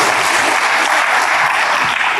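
A church congregation bursts into loud, sustained applause, dense steady clapping from many hands filling the room without a break.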